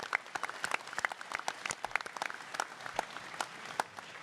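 Live audience applause at a creator panel at GunCon 2024, a steady stretch of many hands clapping with dense, uneven sharp claps, moderately close and sustained throughout, with no speech over it.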